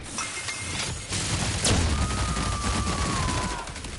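Video game gunfire: a few sharp shots followed by a dense rattling volley, loud and close, with a rising whistling tone sweeping through the middle and no speech over it.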